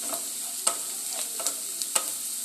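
Chopped onion frying in a pan with whole cumin seeds, a steady soft sizzle punctuated by three or four crisp taps and scrapes of a spoon stirring.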